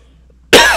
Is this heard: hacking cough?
yes